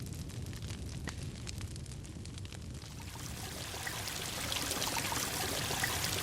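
A fountain in an Unreal Engine game demo gives off a continuous rush of splashing, pouring water that swells noticeably louder partway through and keeps streaming steadily to the end, with no speech.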